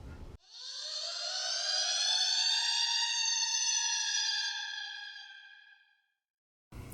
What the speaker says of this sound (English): it's time for us to sound the alarm